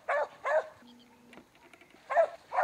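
A little hunting dog in Africa barks at a wounded waterbuck, giving two sharp, close barks, a short quiet gap with faint sounds, then two more barks.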